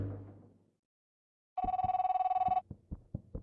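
A telephone rings inside the horror video game Lakeview Cabin 2: one steady, loud electronic ring lasting about a second, then a series of short, sharp thuds and clicks.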